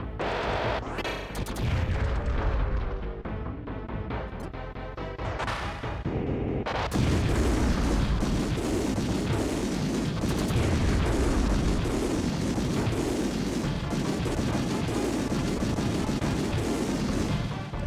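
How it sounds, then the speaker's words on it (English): Bombs go off in a Bomberman video game as a dense run of booming explosions and blasts. The loud barrage is briefly thinner near the start and then keeps going with no break, with no talking over it. "At least this bomb explodes slightly faster, like has a shorter fuse than the chaser bomb"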